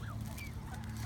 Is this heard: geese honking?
yes